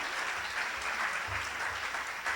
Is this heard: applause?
yes